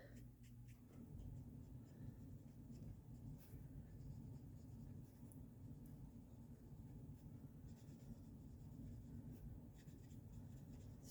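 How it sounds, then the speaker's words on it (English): Coloring pencil scribbling over paper, a continuous close scratchy rasp of rapid back-and-forth strokes, faint and steady throughout. "Scribble right over the top."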